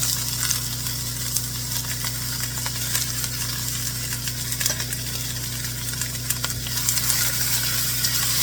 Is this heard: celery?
yes